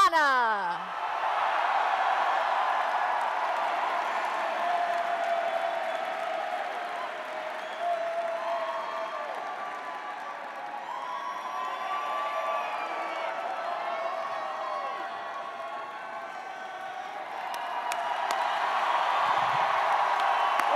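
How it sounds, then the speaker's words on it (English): A big rally crowd at Chicago's Navy Pier, gathered for a Bernie Sanders event, cheers and applauds in a steady, sustained roar that swells again near the end, with no voice standing out. "What a great crowd."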